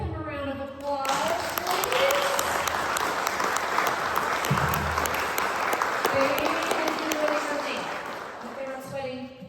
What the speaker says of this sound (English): Okay, let's give them a round of applause, please.